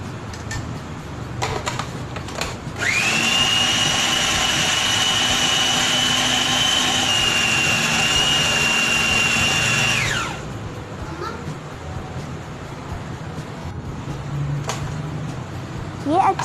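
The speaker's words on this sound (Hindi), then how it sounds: "अब हम इसमें मटन कीमा डालेंगे और इसे अच्छी तरह से चॉप कर लेंगे" An electric chopper whirs steadily for about seven seconds as it minces mutton keema, starting abruptly and cutting off cleanly, loud and close, with faint kitchen background before and after.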